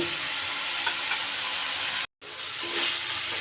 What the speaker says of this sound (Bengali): সজনে ফুলটা দিয়ে খুব বেশি সময় ভাজার দরকার নেই বন্ধুরা মিনিট দুয়েক ভাজলেই কিন্তু এইভাবে বেশ পেঁয়াজ কলির সাথে ভাজা ভাজা হয়ে যাবে